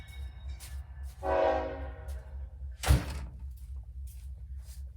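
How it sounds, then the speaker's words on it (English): A door closes with one solid thud near the end of a low rumble, after a distant train horn from tracks about 100 feet away sounds briefly. "Let me close the door real quick."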